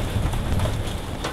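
Heavy hail falls in a thick downpour in Blerick, Netherlands, a loud dense clatter of hailstones on surfaces with no pauses and no voices.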